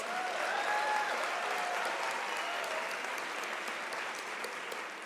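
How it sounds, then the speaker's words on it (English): Sustained audience applause at a University of South Africa graduation ceremony, dense even clapping from a large hall crowd heard at moderate distance. "So let us give them a round of applause."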